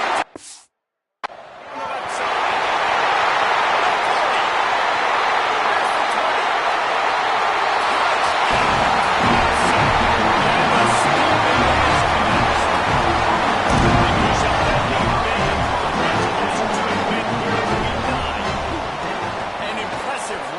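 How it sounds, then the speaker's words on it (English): A loud, steady roar from home fans at a Florida State vs Clemson college football game fills the whole stretch, a dense crowd wash that barely dips and swells slightly near the end. "this crowd's been jacked up. They've been excited."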